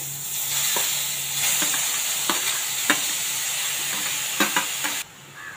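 Close, continuous sizzling and crackling of grated carrot frying in ghee, with a few sharp scrapes of a spoon against the pan before the sound drops away.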